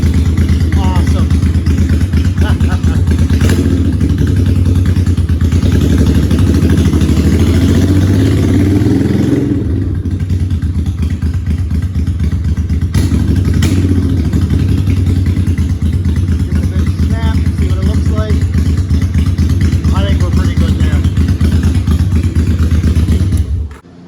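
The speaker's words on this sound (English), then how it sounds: "That is the best that bike has ever idled." A motorcycle idles steadily right after its carburetors have been balanced, giving a loud, even low engine rumble close to the microphone. Occasional clatter sounds, and a voice speaks briefly over the engine.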